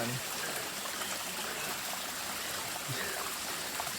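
Cold natural spring water flows on a Sahyadri mountain pilgrimage site, a steady, moderately close rushing trickle that stays even and continuous from start to finish.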